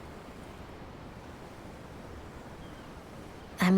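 Gentle ocean waves wash steadily in the video game Tales of Arise, a soft, even hiss of surf with no clear breaks, ending in a sudden brief louder burst.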